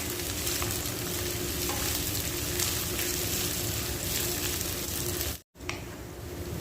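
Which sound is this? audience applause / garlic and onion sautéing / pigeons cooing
garlic and onion sautéing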